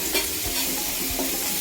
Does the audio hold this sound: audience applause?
no